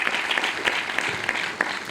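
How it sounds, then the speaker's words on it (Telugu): An audience at a meeting applauds, producing a dense, steady burst of clapping that continues throughout, loud and close, with no talk over it. "చప్పట్లు కొట్టండి ఒకసారి గట్టిగా."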